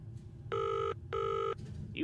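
A telephone rings inside a detective video game, two evenly spaced electronic bell bursts of about half a second each, bright and prominent over a low murmur of background sound.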